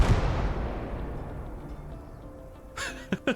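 A heavy artillery boom in a video game opens with a deep rumbling impact that rolls away over a few seconds, followed by a few short, sharper cracks near the end.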